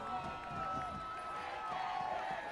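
Crowd noise at a high school football game, Yorktown at Washington-Lee, a broad steady roar of many voices in the stands, distant and fairly faint, with no clear speech over it.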